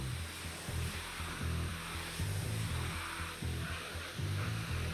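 Pressure washer lance spraying water in a steady loud hiss with a pulsing low pump throb underneath, continuous and close with no talk.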